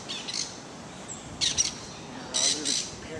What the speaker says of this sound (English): Oh, parrots.